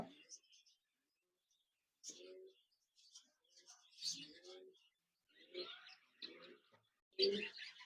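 A pair of colourful finches chirps in short, quiet bursts separated by silent gaps, several thin calls close by and otherwise alone.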